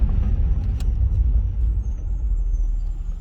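A Nissan 350Z pulls away, its engine rumbling low and steady close by, with no voices and no gear changes standing out.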